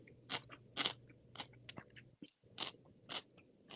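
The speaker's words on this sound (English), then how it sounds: "I know my crunching is probably driving you nuts" Someone bites and chews a watermelon pickle sandwich close to the mic, giving a run of distinct crisp crunches in an uneven rhythm with brief quiet gaps between bites.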